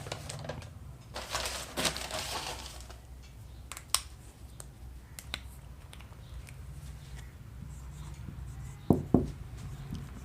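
Someone writes on a board during a physics class on units and measurements, producing a series of short scratchy taps and strokes with quiet gaps between them, ending in a couple of sharper knocks.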